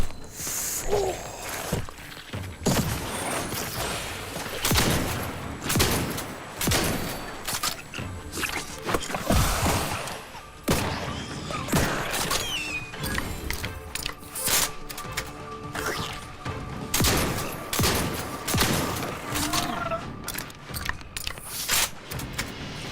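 Explosive bugs burst repeatedly in The Outer Worlds 2, a dense run of loud, sharp cracks and crunching blasts close by, overlapping almost continuously for the whole stretch with no talk.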